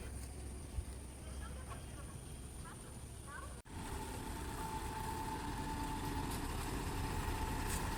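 KSRTC bus idling at Dharmasthala bus stand, a steady low engine drone with a brief dropout partway through, then a fuller rumble with a faint tonal whine, under background chatter.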